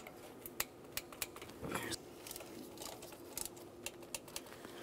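A torque wrench tightens intake manifold bolts on a 1994-2002 Dodge Ram 2500, giving a series of quiet, sharp ratchet clicks at an uneven pace, close by with no talking.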